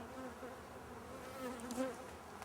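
Bees swarm in a crowded, diseased hive, a faint, steady buzzing hum with a few slightly louder passes near the end.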